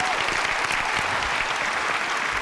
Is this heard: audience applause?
yes